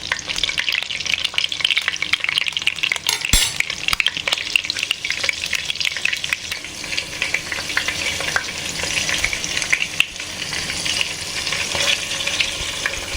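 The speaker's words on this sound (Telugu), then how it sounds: "పచ్చిమిర్చి వేగిపోయింది" Slit green chillies fry in hot oil in a pan for a tamarind fish curry, giving a continuous crackling sizzle broken by a few sharp stirring scrapes, with no talking.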